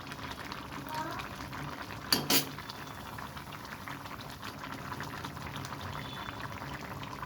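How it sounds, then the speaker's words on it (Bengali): Pabda fish curry with potato and pointed gourd bubbling in a pan, a steady low simmering hiss throughout with a brief clatter midway. "দিয়ে দিলাম মাছটা অনেকটাই ফুটে উঠেছে একেবারে দেখেন"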